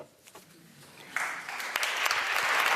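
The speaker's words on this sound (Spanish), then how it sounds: "Ha sido el discurso de Ida Vitale, estos aplausos a la intervención" An audience at the Premio Cervantes 2018 award ceremony breaks into applause after a speech, starting with scattered claps and swelling into sustained, dense clapping that continues to the end.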